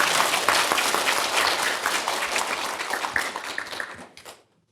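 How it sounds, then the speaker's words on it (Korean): A lecture audience at a Buddhist humanities talk on Hwaeom thought claps loudly, a dense burst of applause that fades gradually and cuts off into silence after a little over four seconds. "큰 박수로 맞이해 주십시오."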